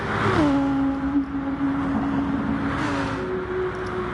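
GT3 race cars lapping Spa-Francorchamps in a racing video game, an engine note dropping in pitch as it shifts then holding a steady drone, with a second gear change near the end.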